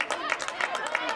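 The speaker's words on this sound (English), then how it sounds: "some applause there from the Raider faithful" Raider fans applauding at a high school flag football game, with a short spell of scattered clapping and crowd noise, fairly close.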